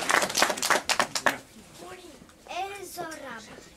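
A short burst of clapping from a small audience at a children's club theatre performance, about a second of quick uneven claps that die out, followed by a voice speaking close by.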